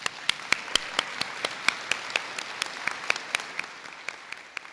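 High school graduation audience clapping, a steady crowd applause with a few sharp, close individual claps standing out in an irregular rhythm.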